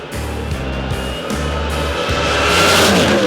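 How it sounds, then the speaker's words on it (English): A supercharged 540 cubic inch big block Chevrolet drag car engine running on methanol roars steadily with a rough, pulsing low rumble, building slightly in intensity toward the end. "It's a 540 cubic inch big block Chev with a 1471 Litchfield supercharger running on methanol."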